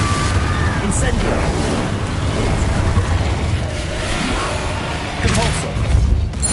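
Spellcasting in the Hogwarts Legacy video game, with Incendio fire blasts among other combat spells: a dense, continuous roar of whooshing bursts and booming impacts that stays loud throughout, with a sharper flare near the end.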